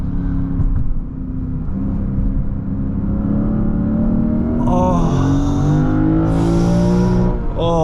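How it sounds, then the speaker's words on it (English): A 2023 Lexus IS500 with a V8 pulls hard, its engine note climbing steadily in pitch as revs build toward a high red line, loud and close from inside the cabin, with a high whine joining late. "You just feel that engine, and it's so smooth, such a buttery smooth engine"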